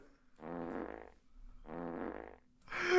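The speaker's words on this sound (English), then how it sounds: "I think fart normal sounds better." A normal fart sound effect plays twice, each a buzzy, sputtering blurt of about three quarters of a second, close and loud, separated by short silences, with the start of another sound cut off at the end.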